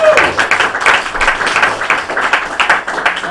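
Crowd applause for a performer named Rob at a small live comedy and keytar show, a steady wash of clapping hands from a modest audience with no talk over it.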